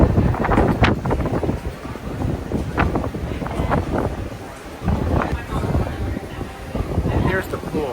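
Steady wind buffeting the microphone on the open deck of the cruise ship Allure of the Seas, a constant rushing roar with gusts, while people talk over it.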